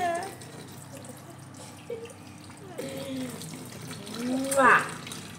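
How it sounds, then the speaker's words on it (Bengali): A household water tap left running pours a soft, steady stream, fairly faint and somewhat distant, under a woman's speech and small indoor clatter. "দেখো জলের কলটা খুলে দিয়ে চলে গেল"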